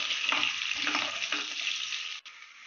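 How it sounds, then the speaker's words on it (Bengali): Chopped capsicum and onion sizzle gently in oil while being lightly fried for chilli chicken, a steady crackling hiss with soft stirring scrapes, close and alone. "এরপর আমি হালকা করে ফ্রাই করে নেবো, বেশি ফ্রাই করার দরকার নেই"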